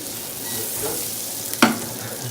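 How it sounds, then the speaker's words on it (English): Vegetables sauté in a pan with garlic in a vegetarian kitchen, giving a steady soft sizzle with stirring and a brief clatter of a utensil partway through, no voices. "I'm just going to saute my vegetables a little bit more"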